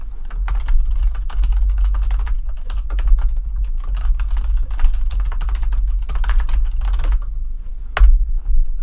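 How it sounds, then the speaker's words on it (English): Steady typing on a computer keyboard, with rapid, close key clicks running continuously over a low background hum. "We can type in our message here."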